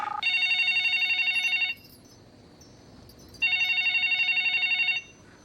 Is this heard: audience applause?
no